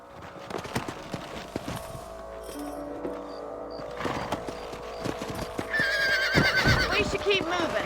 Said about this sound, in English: Os cavalos ficam tudo ouriçado.